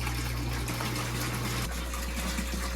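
Water gushing steadily from a hose or pipe into a 400-gallon pond liner aquarium, a continuous loud rushing fill with a low pump-like hum underneath and no talking.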